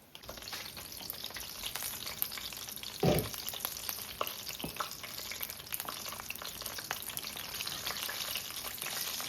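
Jamaican fried dumplings (Johnny cakes) fry under a lid in a covered pan, giving a steady, dense sizzle and crackle with a brief louder burst near the start.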